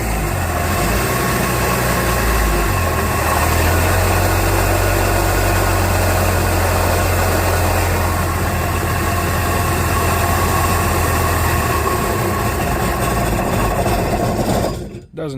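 Jet ski engine idling roughly and unevenly, a loud, steady close-up rumble with an irregular lope that runs alone for the whole stretch before cutting off abruptly at the end.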